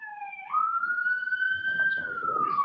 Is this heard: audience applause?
no